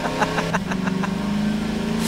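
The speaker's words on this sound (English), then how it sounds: "You get in the vehicle. And you just drive around towing Breen." A car engine in the video game Garry's Mod hums steadily while driving, with a droning tone under a few quick rattling knocks from the vehicle.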